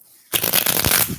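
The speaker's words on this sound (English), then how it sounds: "he wasn't letting me shuffle my deck" A tarot card deck is shuffled close up in one quick burst of riffling, a dense papery flutter that lasts about a second after near silence.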